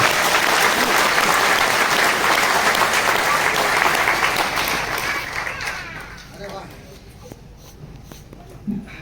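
Loud, dense applause from a seminar audience at a network-marketing motivational talk, steady for several seconds then thinning out toward the end with scattered claps.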